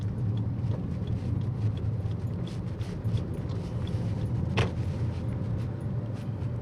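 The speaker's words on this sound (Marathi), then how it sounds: "आणि ट्रॅफिक असतं त्या रोडला." Cars on the Panvel–Goa road pass in a steady low traffic rumble, with a constant engine drone heard from nearby and one brief sharper knock midway.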